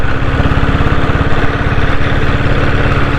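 A restored diesel Royal Enfield Bullet motorcycle engine runs steadily at idle, a close, loud, even thumping chug with a fast regular beat throughout, no voices.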